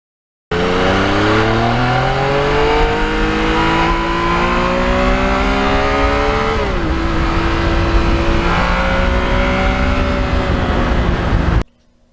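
2020 Yamaha MT-09 motorcycle pulls hard along a quiet back road, its engine loud and close as it climbs smoothly through the revs, drops with a gear change and builds again before cutting off.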